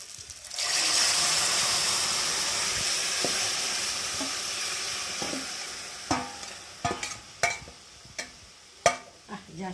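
Jute leaf curry with shrimp is stirred in a pan, a steady sizzle filling the first six seconds before a few sharp, distinct scrapes and knocks of the spoon stand out near the end.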